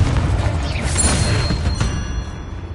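A Confringo blasting spell explodes in Hogwarts Legacy, a single broad rumbling burst with crackling debris that swells and fades over a few seconds amid game ambience.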